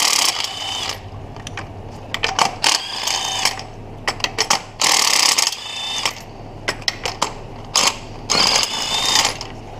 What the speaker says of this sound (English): once you get them broke loose, you can use electric tools on them